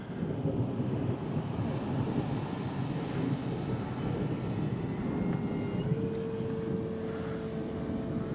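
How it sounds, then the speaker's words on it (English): An Avios Extra NG 1600 RC aerobatic airplane drones steadily through strong, gusty wind, its engine hum buried under heavy microphone wind rumble, with a faint steady tone emerging near the end. "This is the second time I've ever had this plane in the air, folks."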